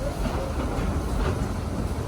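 The Dollywood Express steam train in the Smoky Mountains rolls along its rails with a steady, heavy low rumble and faint clatter, heard from aboard a passenger car.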